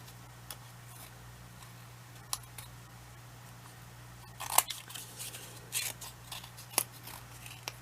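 Fine scissors trim excess paper from a spring-themed jumbo paper clip craft, producing a series of soft, irregular snips that grow crisper and more frequent partway through, close up in a quiet room.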